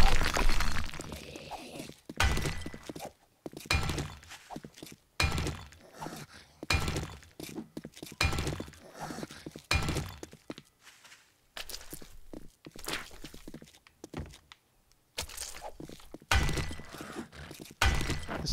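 Rock being busted up in the 7 Days To Die video game, with repeated hard crunching, shattering hits in irregular bursts separated by brief pauses, close and moderately loud.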